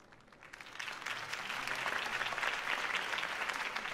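A crowd applauds steadily in Batman: The Telltale Series, the clapping swelling after the first second into a dense, sustained ovation with no voices on top.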